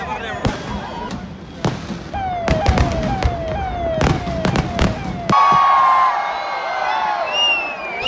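Thrissur Pooram fireworks in 2025, with sharp, loud explosive bangs fired in quick succession and rising whistling streaks between them. A steady roar of crowd noise runs underneath and swells toward the end.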